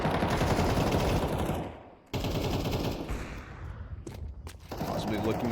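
Counter-Strike gunfire with wall-bang shots punching through cover, dense loud bursts that cut out briefly and resume, under a caster's excited commentary.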